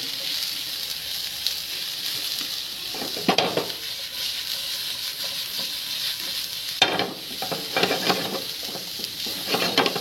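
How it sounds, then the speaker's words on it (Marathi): Finely chopped mushrooms fry over high heat in a pan with a constant, fairly quiet sizzle, and a spoon stirs them in a couple of short scraping bursts. "मोठ्या आचेवर आपल्याला जवळपास 1 मिनिट फ्राय करून घ्यायचे"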